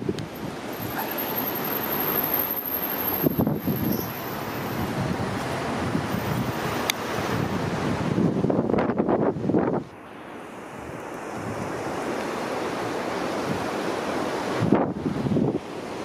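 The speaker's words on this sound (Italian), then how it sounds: "Adesso guardate il mare." Sea waves wash onto the shore at Spiaggia d'Oro in Imperia with steady wind buffeting the microphone, a continuous roar of surf that briefly dips before swelling again, with no voices.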